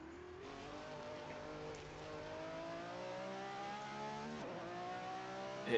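A race car engine at a Le Mans exhibition heard from a camera mounted right on top of it, roaring loud and close as it climbs through the revs, drops on a shift, then climbs again.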